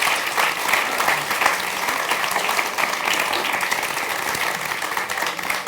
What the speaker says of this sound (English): Can you have a round of applause for our panel